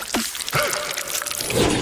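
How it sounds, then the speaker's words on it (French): Sweet strawberry syrup is poured onto a cake, producing a few close, wet drips and squishy splats in quick succession, with no talking. "il est temps que nous ajoutions du sirop de fraises sucré à notre gâteau. Laisse-le coller comme une cascade."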